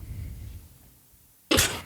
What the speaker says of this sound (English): Why am I coughing again?